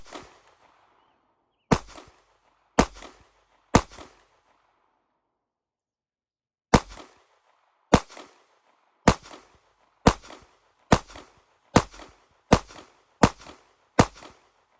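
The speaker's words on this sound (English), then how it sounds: "It's gonna be first shots with the Canik METE MC9." Gunfire from a Canik METE MC9 9mm handgun at a shooting range, loud sharp single shots: three spaced reports, a pause, then a steady run of about eight evenly paced shots, close and with no talking.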